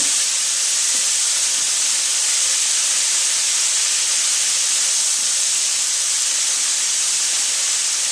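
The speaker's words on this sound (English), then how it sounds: "So now I'm just going to put a little bit of the stock. This will help sort of steam the vegetables." Stock poured into a hot pan of vegetables for ginger chicken sends up a loud, unbroken steaming hiss that holds steady for about eight seconds, close and with no speech.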